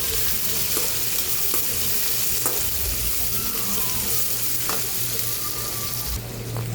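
Thick, mild chilies sizzle and fry steadily in a pan, with a continuous crackling hiss and a few light stirring clicks, close and alone with no voices.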